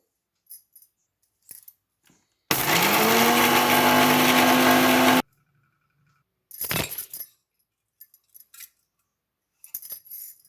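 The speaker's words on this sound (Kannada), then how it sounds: "ಈಗ ಇದನ್ನೆಲ್ಲ ಮಿಕ್ಸಿ ಹಾಕ್ಕೊಳ್ತಾ ಇದ್ದೀನಿ." Loud electric mixer grinder whirring steadily for about three seconds while grinding spices with rock salt for masala buttermilk, rising to a steady high-pitched whine, with brief kitchen clinks and clatter before and after.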